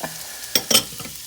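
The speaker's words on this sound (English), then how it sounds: "Now we're going to add our bamboo shoots." Canned bamboo shoots drop into a pot of hot and sour soup and get stirred, making two quick close splashy bursts with a faint stirring clatter over a quiet background.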